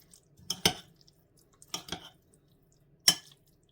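A spoon clinks and scrapes against a bowl of okroshka in three short bouts of stirring, with quiet gaps between, close and fairly soft.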